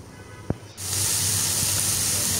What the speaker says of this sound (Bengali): এই কুমড়া ভাজাটা একটু পোড়া পোড়া হবে, একটু পোড়া পোড়া করে ভেজে নিব।